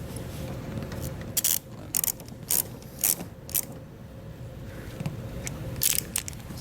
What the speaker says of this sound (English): And then we can just tighten our nut back down.